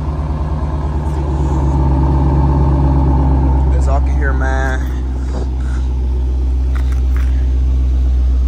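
Dodge Challenger R/T engine idling at night, a steady deep rumble heard close by with someone talking over it.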